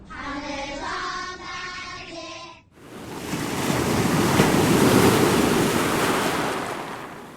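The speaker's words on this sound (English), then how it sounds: "I hear the rolling sound of the wild waves" Wild ocean waves roll and crash as an audiobook sound effect, a broad surging roar that swells and fades after a short tonal passage that cuts off abruptly.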